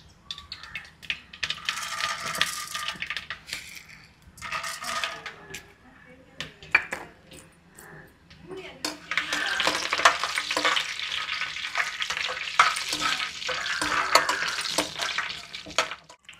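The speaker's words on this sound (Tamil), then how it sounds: "கடுகு பொரிஞ்சிட்டு கடலப்பருப்பை போட்டுருவோம்." Mustard seeds spluttering in hot oil, with irregular sharp pops and crackles, then chana dal tipped in, giving a louder, fuller sizzle with utensil clinks. A voice speaks intermittently over the frying.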